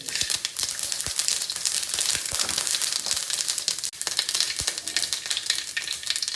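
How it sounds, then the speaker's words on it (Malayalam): Mustard seeds crackle and pop in hot coconut oil for a homemade lemon pickle, a dense, steady sizzle with sharp spits throughout, close and loud with no voices. "വെളിച്ചെണ്ണ നന്നായി കാഞ്ഞ് അതിലേക്ക് ഞാൻ 2 സ്പൂണ് കടുക് ഇടുന്നുണ്ട്"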